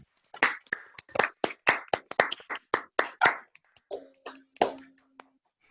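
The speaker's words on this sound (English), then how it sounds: "give him a warm round of applause for the talk" Several people on an online call clap after a data science talk, producing a scattered, uneven run of distinct individual claps that grows sparser, with a faint tonal hum near the end.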